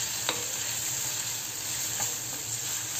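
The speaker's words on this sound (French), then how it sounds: "Là, je vais bien faire revenir mes oignons" Onions sizzle and fry in a pan for a chicken tagine while being stirred, a steady close crackling hiss with a few sharper scraping stirs on top.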